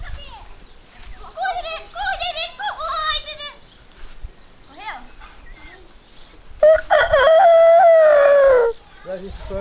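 Rooster and chickens on a farm, with clucking and calls in the first half, then a loud sustained crow-like cry near the end, amid talk and background farm noise.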